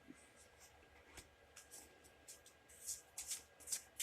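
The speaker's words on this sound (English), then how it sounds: "Another quick shuffle and a cut." Tarot cards being shuffled, soft riffling and rubbing that builds into a few crisp flutters near the end, close and quiet.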